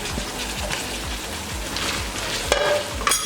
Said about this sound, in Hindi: 2 से 3 मिनट के लिए इसको भी भून लेंगे।